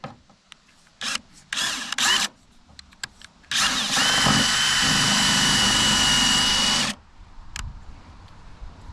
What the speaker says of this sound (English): start drilling it.